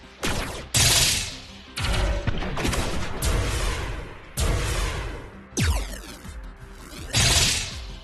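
Naval guns fire in the video game Station Command, heavy booming blasts arriving in bursts of four or five, each followed by a whooshing rumble that decays before the next salvo.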